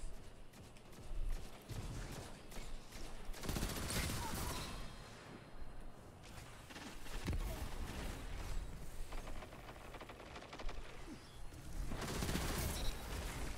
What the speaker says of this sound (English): Big machine gun.